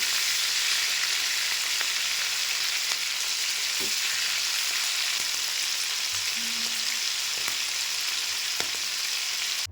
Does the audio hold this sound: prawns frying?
yes